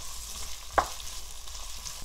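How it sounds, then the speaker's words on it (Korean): Drained dried mussels stir-frying in oil in a pan, a soft steady sizzle with one brief clatter near the middle, no voices. "물기를 뺀 홍합을 넣고. 이렇게. 이렇게 볶아주는구나"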